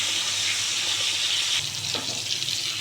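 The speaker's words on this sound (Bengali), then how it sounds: "একই তেলে পটলগুলোকেও খুব ভালো করে ভাজবো।" Pointed gourd (potol) sizzles steadily in hot oil in a pan, the same oil used before for frying fish, with a constant close hiss and a little stirring near the end.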